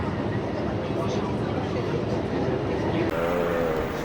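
A Shanghai metro train gives off a steady, loud rumble with a rising mechanical whine near the end, and voices are heard faintly in the carriage.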